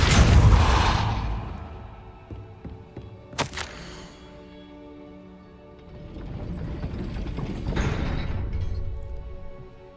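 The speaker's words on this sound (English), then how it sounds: "That looks as if it might raise the gate." Gate-raising mechanism in Hogwarts Legacy: a heavy rumbling grind, a sharp clank partway through, then a second swelling mechanical rumble, loud and close, with no talking.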